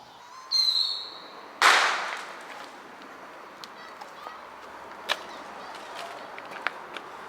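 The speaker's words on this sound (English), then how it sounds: "There they go with them old fireworks." Distant fireworks pop at a summer fishing spot, with a couple of sharp bangs early on followed by scattered faint cracks and pops trailing off in the quiet outdoor air.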